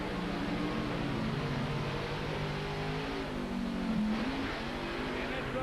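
Loud, roaring monster truck engines rev and race continuously at a 1990 West Lebanon event, with rising and falling pitch, crowd noise and a faint voice underneath.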